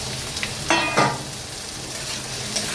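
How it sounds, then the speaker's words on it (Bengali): Cut potatoes go into hot oil with lightly fried onions, cumin and tomato, a steady close sizzle with two brief scraping stirs near the start. "ডুবু ডুবু করে কেটে রাখা আলুগুলো দিয়ে দিই।"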